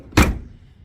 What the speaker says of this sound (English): So close this door.